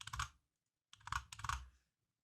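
A password is typed on a computer keyboard in two close, crisp bursts of rapid key clicks separated by a brief pause, then silence.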